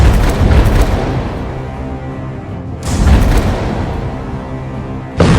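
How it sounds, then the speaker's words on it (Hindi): A bomb blast bringing down a building in the Gaza war: loud, heavy booming rumbles with a sustained roar, a second surge midway and a sharp new burst at the end. "जब ये बम गिरता है तो ऐसा धमाका होता है जो पूरी बिल्डिंग को गिरा देता है"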